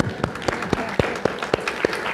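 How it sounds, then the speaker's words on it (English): An audience at a Hamza Yusuf talk gives sparse, slow, evenly spaced claps, about eight sharp hits over two seconds with a soft background murmur. "That applause was also for the question."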